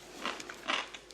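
Crisp crunchy bites of cucumber soy sauce pickle, several sharp crackling crunches in quick succession, close up with no talking.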